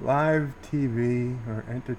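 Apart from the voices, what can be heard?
No everyday noise stands out behind the speech.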